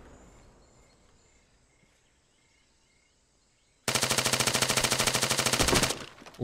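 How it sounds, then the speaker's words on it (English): Sustained automatic gunfire in the military shooter game Arma 3, a loud rapid burst of evenly spaced shots that starts abruptly after quiet ambience with faint insect chirps and runs for about two seconds before cutting off. "they're still shooting at me!"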